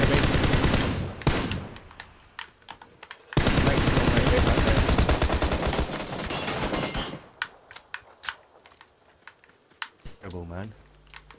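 Rapid automatic gunfire in the battle-royale game PUBG, long dense bursts of shots crackling loudly, then scattered single cracks and keyboard clatter, with a player's voice speaking near the end.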